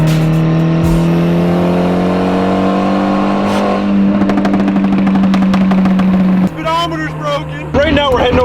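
A car engine holds a loud, steady high-RPM drone, the whole body rattling and buzzing with vibration, then the pitch shifts and drops near the end with sharper revs.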